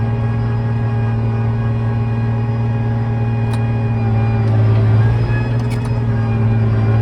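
John Deere 8300 tractor engine running at full throttle in seventh gear, a steady loud drone with a constant low hum that swells slightly toward the end.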